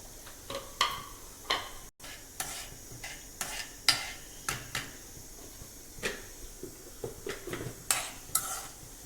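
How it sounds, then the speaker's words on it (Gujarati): Cumin seeds crackle in hot ghee while a spoon stirs them in a pan, with a quiet sizzle under a run of irregular scraping and tapping strokes close by. "જીરું નાખ્યું ઘીમાં વલાવી દેવાનું"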